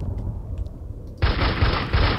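A dragon launching fireballs in CastleMiner Z, a low rumbling din that suddenly swells into a loud, sustained roaring blast.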